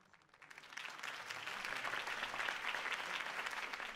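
Applause from a sizable crowd in the video game Batman by Telltale swells in quickly and holds steady as a dense, continuous patter of clapping.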